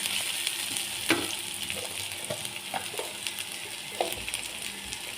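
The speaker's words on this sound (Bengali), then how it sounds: "এখানে আমি তেল দিয়েছি, তেলটা গরম হয়ে গেছে। এখন পেঁয়াজ কুচি দিয়ে দিয়েছি।" Chopped onions sizzling in hot oil in a pan, a steady, close frying hiss broken by a few soft stirring clicks, with no voices.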